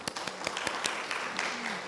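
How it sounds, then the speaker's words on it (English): Audience clapping at a meeting, a burst of scattered claps with sharp individual hand strikes rather than dense applause, moderately close and short, with faint voices underneath. "One more round of applause,"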